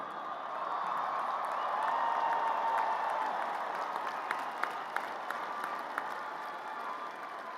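A large commencement crowd at a university graduation applauding in sustained, dense clapping that fills the hall, steady and loud throughout with a few sharper individual claps standing out.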